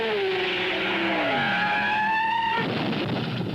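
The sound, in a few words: 1960s race cars at Brands Hatch, Ford crashing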